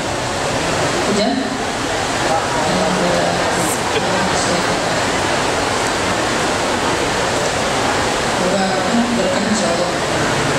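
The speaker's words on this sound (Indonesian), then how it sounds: "Hujan?" Heavy rain falls during an Islamic lecture at a mosque in Banda Aceh, a dense, constant hiss like a downpour, with voices faintly mixed in.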